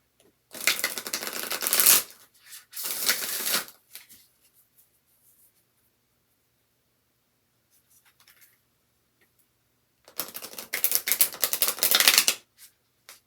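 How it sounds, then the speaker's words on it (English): Oracle cards for a yogic path reading being shuffled and pulled, with two brisk bursts of riffling at the start, a long quiet pause, then another dense flurry of shuffling near the end, close and clear with no talking. "we are going to pull 2 or 3 of these yogic path cards."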